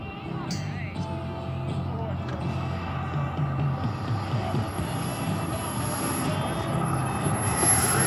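An Avro Vulcan bomber lands, its loud, steady jet engine roar filling the whole stretch and swelling slightly toward the end, with no talk over it.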